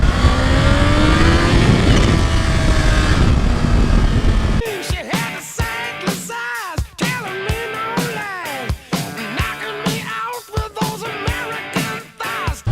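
Supercharged Kawasaki H2 motorcycle accelerating hard, a loud continuous engine roar that then breaks into rapid rising revs with sharp gear changes and brief drops, close and intense throughout.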